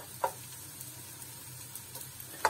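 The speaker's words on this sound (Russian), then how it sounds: "Вот сначала обжариваем чеснок." Garlic fries in a pan for a creamy salmon pasta, giving a faint, even sizzle with a couple of sharp taps from a utensil.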